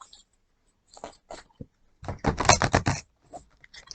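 An oracle card deck shuffled by hand, a few soft papery riffles first, then a louder dense burst of card flapping, trailing into scattered quiet taps, close up with no talking.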